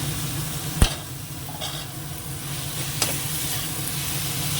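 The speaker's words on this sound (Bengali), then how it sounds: "তার মশলাটা কষানো হয়ে গেছে মাংসটা দিয়ে দেবো" Minced meat frying in cooked-down masala, a loud continuous sizzle with a couple of sharp spoon clacks against the pan and scraping stirs between them, close up and with no talking.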